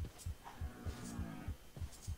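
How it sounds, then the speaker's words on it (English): Steady heartbeat sound effect in modded Minecraft RLCraft, about eight deep low thumps in a regular quick rhythm with a faint hum behind, no talk. "Now my heart's beating right in my ear."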